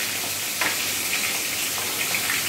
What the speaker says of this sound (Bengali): তেলের মধ্যে মাছের মাথাটা একটু একটু করে দিয়ে খুব ভালোভাবে প্রথমে ভেজে নিতে হবে